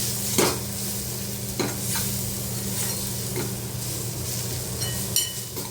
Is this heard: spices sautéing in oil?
yes